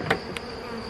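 Honeybee swarm buzzing at a hive during a colony check, a steady faint insect drone with a couple of brief louder bee passes close by.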